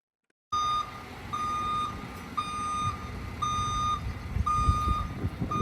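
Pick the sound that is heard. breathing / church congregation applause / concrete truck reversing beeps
concrete truck reversing beeps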